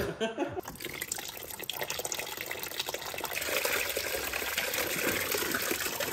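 Water gushing out of a car engine during a high-mileage rebuild, a steady splashing stream that grows slightly louder and keeps running for several seconds, close by and without talk.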